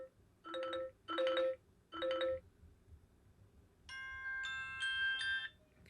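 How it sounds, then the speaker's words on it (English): Ringtones play from a Google Pixel 2 phone: three short, bright chiming bursts in a quick row, then a pause and a longer melodic tone sequence, all clear and close with no talking. "Let's go into sound, as was suggested, and play some ringtones."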